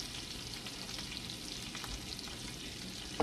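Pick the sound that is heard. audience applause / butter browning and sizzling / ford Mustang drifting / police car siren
butter browning and sizzling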